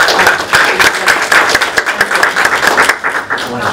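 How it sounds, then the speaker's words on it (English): A committee meeting audience gives a short round of applause, loud close clapping that stays dense and then thins slightly toward the end, with no speech over it. "if we can give a round of applause"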